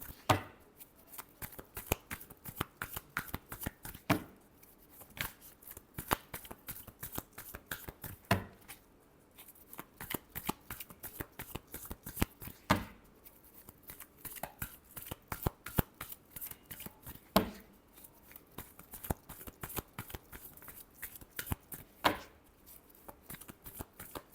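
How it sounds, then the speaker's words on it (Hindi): Playing cards being shuffled over and over for tarot reading, with quick riffling bursts and soft slaps repeating in a steady rhythm for the whole stretch, close and quiet, with no talk. "Last shuffle."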